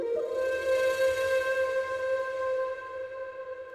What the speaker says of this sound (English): Very nice flute ornaments